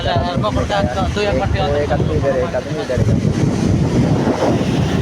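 Blustery wind buffets the microphone over the wash of sea waves on the shore, while a voice talks through it.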